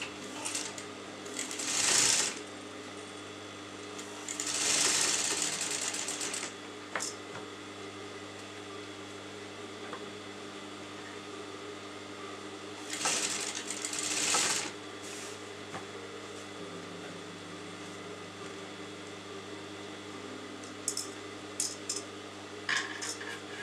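A sewing machine stitches a kurta neckline in short, steady whirring bursts separated by quiet pauses, with a faint hum running underneath.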